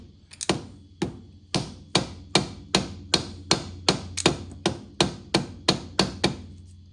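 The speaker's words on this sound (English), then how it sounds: "Gonna need a bigger hammer." A soft hammer strikes metal during limited-slip differential work, about fifteen sharp, evenly spaced blows in a steady rhythm, close and distinct with short decays between hits.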